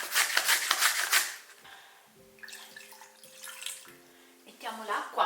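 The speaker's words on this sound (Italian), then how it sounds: "Mettiamo l'acqua," Water splashes into a pot on a home kitchen stove to make a sugar syrup, with a steady low hum alongside. A person talks at the start and end.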